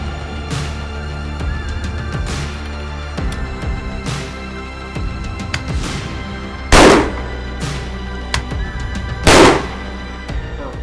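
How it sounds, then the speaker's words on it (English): Gunshots at an outdoor shooting range during practice: a scatter of sharp reports, most moderate and a couple much louder and closer, spaced irregularly over a steady low background, with no talking. "So we're going to keep shooting now."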